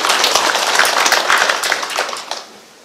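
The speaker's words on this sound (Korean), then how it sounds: "우리 박수 한번 주십시다" A crowd applauds at a community residents' meeting in Hupo-myeon, Uljin. Dense clapping fills the room for about two seconds, then thins and fades away.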